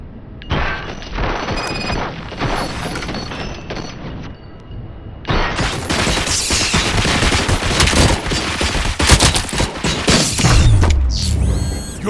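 Gunfire erupts in the video game RoboCop Rogue City: a dense fusillade of shots and mechanical clatter, loud and sustained, with a brief pause before a heavier barrage of crashing, booming impacts.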